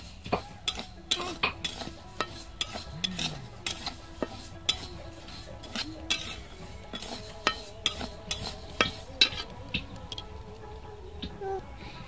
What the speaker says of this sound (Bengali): এই যে ডালগুলো ভেজে নিয়েছি